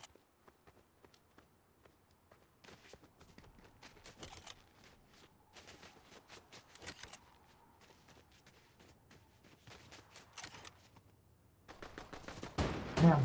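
Gunfire in the battle royale game Fortnite: scattered single shots and short bursts, mostly faint and distant, with footsteps between them and a louder volley near the end.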